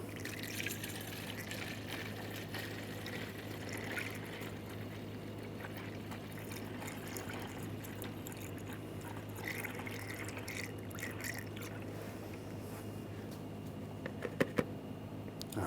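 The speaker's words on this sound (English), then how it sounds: "Now we're going to add the coolant." Coolant pours through a funnel into the radiator of a 2010-2014 Volkswagen GTI 2.0 L4, a steady low trickle and gurgle of liquid with a couple of faint clicks near the end, no talking.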